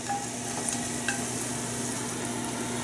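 Julienned ginger frying over high heat in oil, a steady, dense sizzle that holds even throughout, close and without speech.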